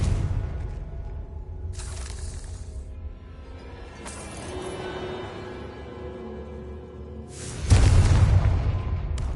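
A Confringo blasting spell in a Harry Potter video game goes off with a booming burst and rushing debris, then a second heavier blast near the end, close and fairly loud over a low ambient hum.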